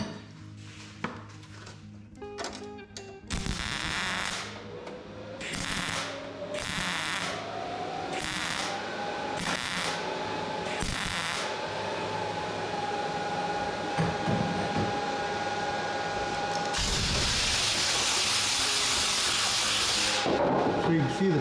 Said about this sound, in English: Now these should weld better on the next